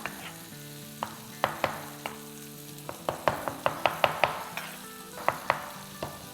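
Garlic paste and salt being stirred into a raw kafta kebab mixture, a wet, sticky mashing and scraping that comes in quick close bursts against a faint background hum, with no talking.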